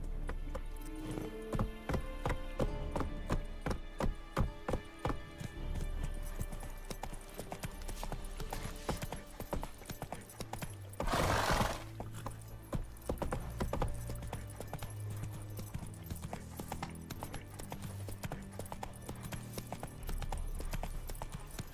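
Rhythmic clip-clop of horse hooves in the game Witcher 3, a quick steady galloping beat with a brief loud burst midway, then slowing, under faint game ambience.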